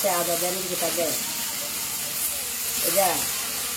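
Ginger and onion frying in a pan, a steady hiss and sizzle running throughout while a voice talks over it at moderate volume.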